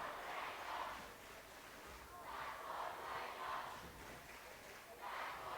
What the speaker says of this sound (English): that's for Jacob cheer going on down at midcourt with the student section